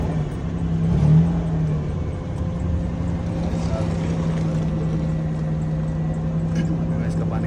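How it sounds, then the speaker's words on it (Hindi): Car engine idling after being started and left to warm up, a steady close rumble with a constant low hum and slight swell near the start, while someone talks over it. "तो मैंने गाड़ी स्टार्ट करते हैं, थोड़ी गर्म होती है"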